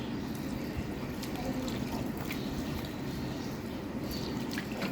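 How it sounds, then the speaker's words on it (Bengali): Water pours steadily into a pan of small kachki fish curry for several seconds, a continuous trickling splash with faint kitchen noise around it. "এখন এখানে একটু পানি দিয়ে দিব যে মাছের সমান সমান পানি দিয়ে দিতে হবে"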